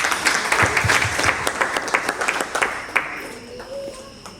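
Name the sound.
audience applause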